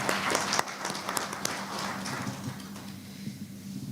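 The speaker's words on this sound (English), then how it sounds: "Shall we give a round of applause?" Audience applause at an annual general meeting of an accountants' chapter, a steady wash of many hands clapping that builds briefly, then thins and fades over a few seconds.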